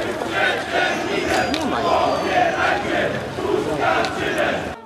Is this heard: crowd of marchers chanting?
yes